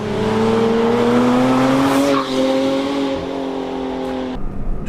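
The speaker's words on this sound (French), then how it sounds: "On a un silencieux Evo X pour libérer un peu le flat 6 3 litres 4" A Porsche Cayman R with its mid-mounted naturally aspirated 3.4-litre flat-six and an Evo X exhaust, a loud sustained engine drone holding steady pitch, then easing off near the end.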